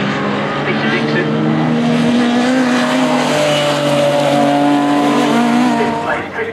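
Classic race cars of NSSCC classes B, C, D and H passing on a circuit, loud engines droning and changing pitch as they go by, with a commentator talking over the top.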